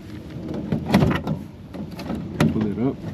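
Plastic door panel clips snap and pop as the trim is pried off a 1993 Ford F150 Lightning door, in two sharp bursts with rustling between. Someone talks throughout.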